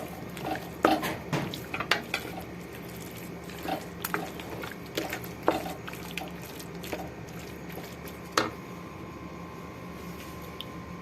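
A spoon stirs vegetables and chicken into a white sauce for pasta in a pot, giving soft intermittent scrapes and clinks against the metal over a steady low kitchen hiss, with no voices.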